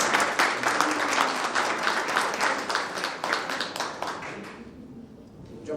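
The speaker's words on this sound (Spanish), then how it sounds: "Un aplauso a las mujeres, por favor." An audience claps for the women at a gathering, a dense ripple of applause that gradually thins and fades out, leaving near quiet at the end.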